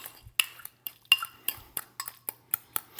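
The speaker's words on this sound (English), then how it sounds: "I'm gonna add the red onion to it. Give that a little stir." Spoon scraping and clinking against a bowl while red onion is stirred into mashed avocado, a run of about a dozen sharp, close taps and scrapes in an irregular rhythm, with no talk.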